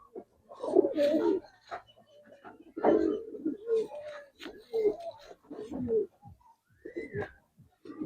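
Low, burbling coos from pigeons come in uneven bursts, close and moderately loud, in a loft where Giribaz and coloured pigeons are kept for sale, with some short higher calls mixed in.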